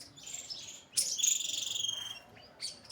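Sparrows in a village give several high, quick chirps, with one louder burst in the middle and a fainter call near the end over a quiet background.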